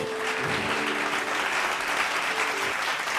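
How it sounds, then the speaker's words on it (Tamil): Sustained audience applause at a Tamil Christian sermon gathering, a steady dense wash of many hands clapping throughout, with a faint tonal hum beneath and no one speaking. "கைத்தட்டுங்க."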